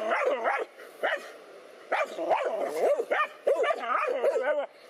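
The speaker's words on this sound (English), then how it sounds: "It's a certain bark that you will learn to hear." Several dogs barking in a frenzy at a snake at a home in Thailand, rapid overlapping yelps and barks close by, relentless with only brief pauses.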